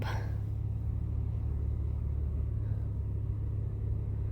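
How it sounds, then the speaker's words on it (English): A car engine idling while it warms up, a steady low rumble that holds evenly throughout, fairly faint, with no speech over it. "So just let the car warm up."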